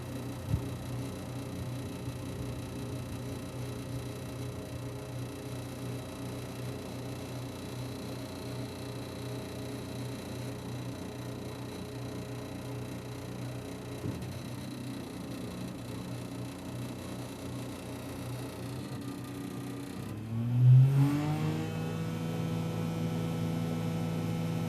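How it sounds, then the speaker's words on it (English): An Arva Industries MS260 mining scaler swings its boom left and right at low idle, giving a long steady mechanical hum with a faint rise and shift near the end, and no voices. "We activate the joysticks with safety interlocks, and then the machine swings."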